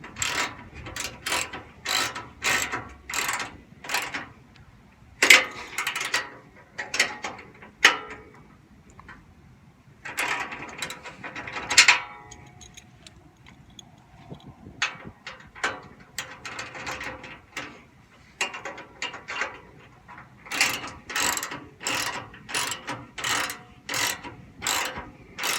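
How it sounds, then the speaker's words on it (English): An adjustable wrench ratchets in quick repeated clicking bursts while tightening the bolts of a TAC 3-inch bull bar on a Ford F150, pausing briefly between runs of clicks, close and fairly loud. "Take your adjustable wrench, use it to hold the bolts in place, and then it's righty-tighty, lefty-loosey."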